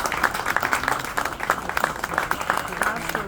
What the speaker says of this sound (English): So we should all give ourselves a round of applause that we're here today.